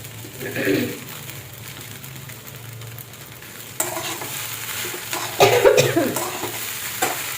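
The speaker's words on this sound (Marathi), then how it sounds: "उकडलेला बटाटा घालून ना आपल्याला परत पुन्हा चांगलं परतून घ्यायचं आहे." Sabudana khichdi with boiled potato being stir-fried in a pan, a soft sizzle under repeated spatula scrapes and stirring knocks that grow louder and busier toward the end, close and with no talking.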